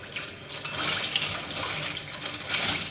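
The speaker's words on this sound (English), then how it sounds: "I'm just stirring the ice as it melts" Water with melting ice being stirred, a steady wet swishing and faint clinking that runs continuously at close range for the whole stretch, with no talking.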